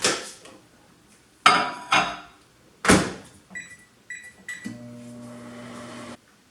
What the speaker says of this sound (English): I'm going to microwave this for 20 to 30 seconds.